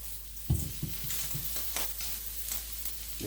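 A stir fry sizzles in olive oil in a pan while being stirred, a steady close crackle with a few clunks and scrapes of the utensil against the pan.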